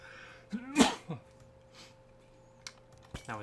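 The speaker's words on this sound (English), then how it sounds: "That was a sneeze." A single sharp human sneeze bursts out close to the mic, preceded by a brief indrawn breath and followed by a few faint snuffles and small clicks over a quiet steady hum.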